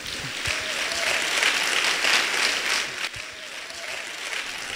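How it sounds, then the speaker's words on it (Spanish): Church congregation applauding at a worship service, a steady broad wash of clapping that holds throughout, briefly dipping near the end before continuing. "Denle un aplauso al Señor."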